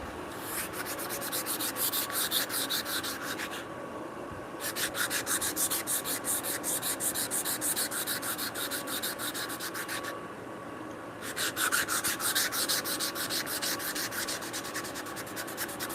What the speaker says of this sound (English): I'm just going to kind of sand it without getting a splinter, hopefully.